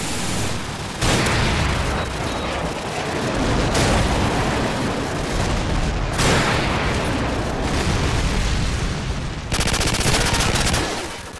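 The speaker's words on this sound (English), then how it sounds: "Friendly airstrike on the way." Airstrike explosions in the Call of Duty 4 multiplayer map Overgrown, loud rumbling blasts and heavy crackling gunfire in dense overlapping bursts that fill the whole stretch with only brief dips.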